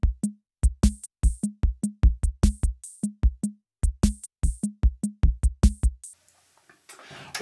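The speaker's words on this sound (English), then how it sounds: "he presses the second preset called Disco Number 2." A Roland CR-78 drum machine runs its Disco Number 2 preset at 140 beats per minute, a crisp, steady pattern of kicks and bright hi-hat ticks repeating loudly for about six seconds before stopping into a faint tail of hiss.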